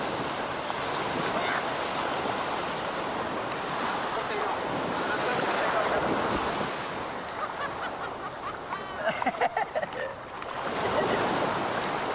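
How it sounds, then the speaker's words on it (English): Ocean surf rolls and crashes steadily at a Maldives surf spot near Hirilandhoo, a broad continuous wash of breaking waves with wind buffeting the microphone and a brief splashy burst near the end. "Atif, up and riding his first wave"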